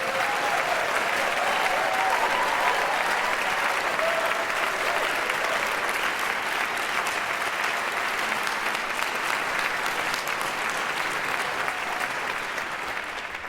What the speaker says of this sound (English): A warm round of applause for the John Marcellus and the ladies and gentlemen of the slide trombone down here, the trombone choir